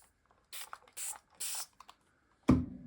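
Several short bursts from a hand spray bottle misting dried leaves and tissue paper, four quick hissing squirts with brief pauses, followed by a duller thump-like spray at the end.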